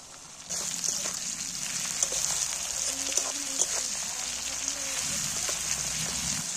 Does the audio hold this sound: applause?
no